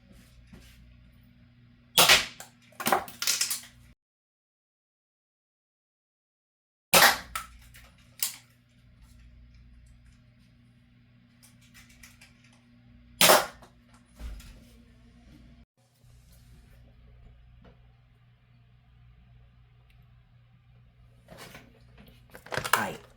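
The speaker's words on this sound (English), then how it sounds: "I will be firing this blaster from a longer range, so you will not see me." A long-range foam dart blaster firing in the distance: several sharp pops and bursts spread out over time, some in close pairs, separated by quiet gaps and a stretch of near silence.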